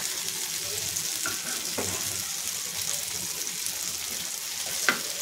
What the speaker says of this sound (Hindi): गॅस मीडियम मध्ये ठेवणार आहे आणि फ्राय करून घेते मी।